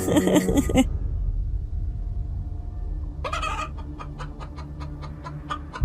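Cartoon chickens cluck and fuss in a short burst, then after a quiet gap a run of sharp, rhythmic clucks and squawks follows, close and clear.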